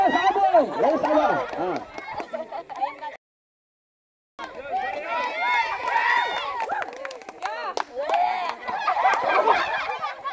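A person mimics a rooster with loud, warbling, crow-like vocal calls, which break off into a short silence and then return in a second noisy burst.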